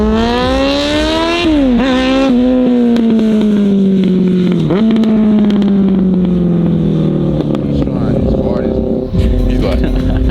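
A 2021 Dodge Charger 392 with straight-piped exhaust revs loudly and close, engine pitch rising and falling through several sharp blips and sustained pulls, with occasional voices in the background.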